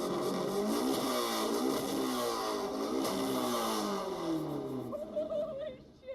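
A street motorcycle engine revs hard to about 8,400 RPM, a loud, sustained near roar with a sweeping pitch that rises and then falls off at the end.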